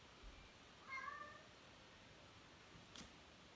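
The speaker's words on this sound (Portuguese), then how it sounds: "O gato veio aqui participar da escola também." A cat meows once, short and fairly faint, in a quiet indoor room during a Bible study class, with low background hiss and a small click later.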